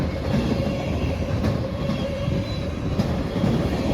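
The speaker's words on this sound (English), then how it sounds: "This train showed up right as we pulled up to our spot" A BNSF freight train rolls past close by, a loud steady rumble with rhythmic wheel clacks every second or so and a faint high squeal above it.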